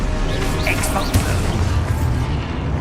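A crackling magical explosion spell bursts in the Hogwarts Legacy video game, a dense rumbling boom layered over continuous game noise with a couple of sharper pops.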